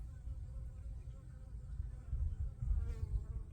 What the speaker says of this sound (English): see that bee right there? She's flying around.